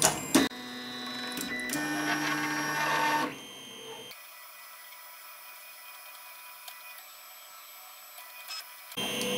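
A 3D printer runs its homing routine after a firmware update: a loud whine of stepper motors with pitch changes for about three seconds, then a quieter steady hum with faint clicks, and a brief motor burst near the end.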